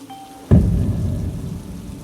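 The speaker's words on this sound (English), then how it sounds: "the rain suddenly started to pour" Heavy rain bursts on suddenly after a faint hum, a loud dense downpour that holds steady and then eases slightly, with no voices.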